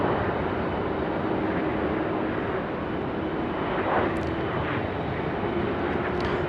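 A Velocity Boeing 737-800 lands on runway 16 right at Sydney Airport at night. A steady, broad jet roar holds throughout, with a faint squeak near the middle.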